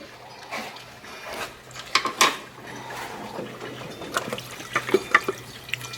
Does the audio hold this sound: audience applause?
no